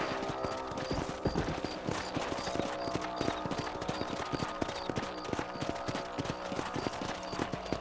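In the video game Red Dead Redemption, a ridden horse's hooves clip-clop in a steady, quick rhythm across open ground. Soft background ambience runs underneath, and no one speaks.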